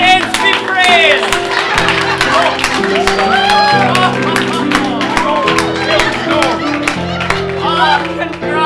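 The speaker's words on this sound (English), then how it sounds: "What's all the clapping about?" Clapping and crowd noise from a gathering in a sitcom scene, running steadily under loud layered music and overlapping voices throughout.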